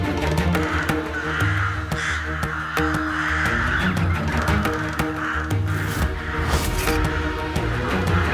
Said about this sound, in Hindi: कौवा खाने के पास आने से पहले मुड़कर क्यों चला जा रहा है?